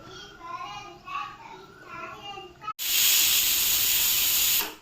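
Grated mango dropped into hot oil in a pan bursts into a loud, steady hissing sizzle that holds for about two seconds after a stretch of speech.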